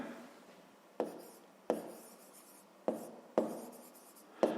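A pen writes a fifth-grade math solution in short strokes, each beginning with a sharp tap and fading in a scratchy trail, five or six repeating at an uneven pace, close and quiet.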